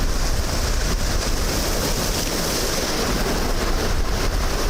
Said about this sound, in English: the waves just keep getting bigger